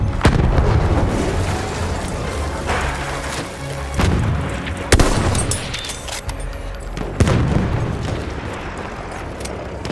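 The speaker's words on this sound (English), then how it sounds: "The enemies are being halted by our artillery barrage." An artillery barrage in the Battlefield 1 video game, with a dense roar of explosions and several sharp booms landing every few seconds, loud and continuous.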